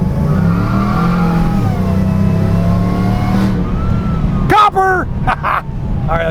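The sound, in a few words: Chevrolet Malibu car engine revving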